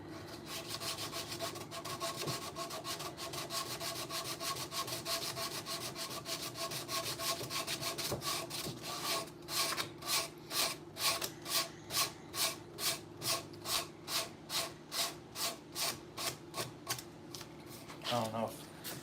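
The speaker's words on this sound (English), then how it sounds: "hand sanding can always get a better finish than power sanding" Sandpaper worked by hand over a wooden rocking horse, steady scratchy rubbing that settles into a regular back-and-forth rhythm of about a dozen even strokes, close and fairly loud, with a brief voice near the end.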